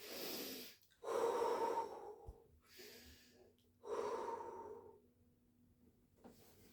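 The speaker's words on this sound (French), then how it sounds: "on va prendre une respiration" A person takes several deep, audible breaths in a quiet room, each long inhale and exhale rising and fading, close to the microphone with no speech.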